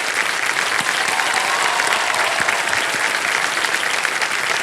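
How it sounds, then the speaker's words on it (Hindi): Loud, sustained studio audience applause for contestant Anushree on a television quiz game show, a dense, even wall of clapping with no letup. "एक बार फिर जोरदार तालियां बज जाए इनके लिए।"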